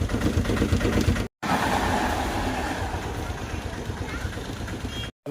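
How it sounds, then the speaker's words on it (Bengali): A train rumbles and clatters as it pulls in, low and continuous, with people talking nearby over the noise. "এখন ট্রেন এই ট্রেন সবেমাত্র ঢুকবে"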